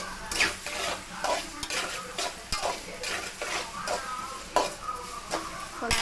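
Onions sautéing with salt in a pan while being stirred, giving a steady low sizzle under repeated scraping and clinking of a spoon against the pan, close and busy throughout with no talk.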